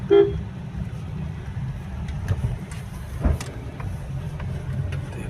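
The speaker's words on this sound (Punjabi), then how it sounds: "ਹਾਰਨ ਮਾਰ ਸਿੱਧੀ" A short car horn toot at the start, followed by a running engine rumble and faint clicks; no talking.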